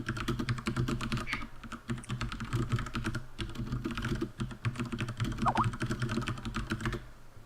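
Rapid computer keyboard typing clatters in dense, continuous keystrokes close to the microphone, sounding loud and steady throughout with no speech over it.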